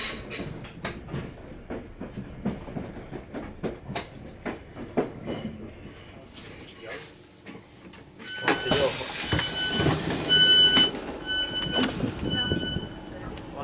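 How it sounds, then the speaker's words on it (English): A Class 466 electric train on the run to Charing Cross gives a steady rumble and clatter that swells louder after the halfway point, with short squeals and clicks, and voices sound faintly now and then. "we are now about to board this 466 down to Charing Cross for a bit more haulage"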